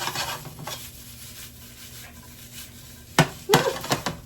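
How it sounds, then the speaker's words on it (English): Rice and sausage browning in a pan give a steady low sizzle, then a few sharp stirring scrapes and clinks of a utensil near the end, no voices. "I want that to brown up a little bit with the sausage."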